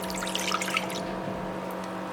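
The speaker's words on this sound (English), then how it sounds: "So into the same saucepan I'm going to pour in the milk" Milk poured into a saucepan for a kunafa cheese mixture, a short close splashing trickle that settles into a steady quieter flow over a low background hum.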